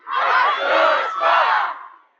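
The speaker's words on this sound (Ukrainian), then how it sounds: "Я відбігаю, кажу Сергій, а ви кажете Костюшко" A concert crowd shouts a name back in unison, one loud, sustained collective yell of many voices that lasts nearly two seconds before fading out.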